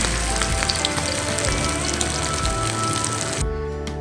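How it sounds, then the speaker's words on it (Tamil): Fish pieces frying in hot oil in a pan, a steady, dense sizzle that crackles loudly and continuously, cutting off abruptly near the end to a quieter hum. "எண்ணெய் சூடானதும் ஒவ்வொரு மீனாக வந்து நம்ம போட்டுக்கலாம்."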